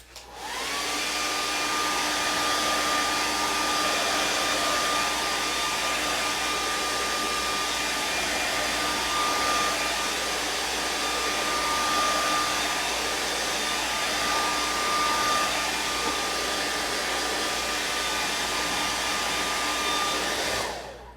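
A dryer blows steadily over fresh paint on a travel-themed map sign, producing a loud, continuous whirring roar that runs unbroken for about twenty seconds with no voices.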